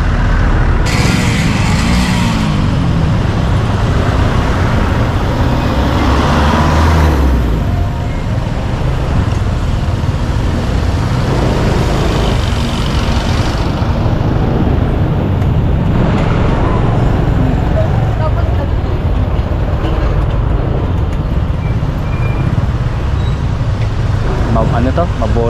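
Heavy road traffic around a motorcycle ride in Valenzuela gives a constant loud rumble of cars, buses and trucks, with engine surges and passing vehicles under intermittent talk.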